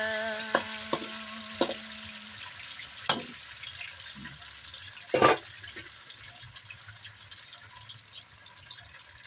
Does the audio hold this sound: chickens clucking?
no